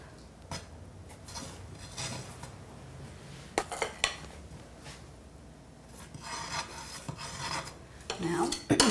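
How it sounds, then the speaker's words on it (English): A spatula pressed against a cake spreads buttercream frosting around the sides, making soft rubbing and scraping strokes with a few light clinks and a brief louder scrape at the end. "I'm going to invert my spatula and press it into the cake, and this is going to frost the sides"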